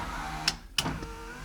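Power windows on a manual Lexus SC400 whir briefly in two short motor runs, close and fairly quiet, with faint clicks at the start and stop of each run.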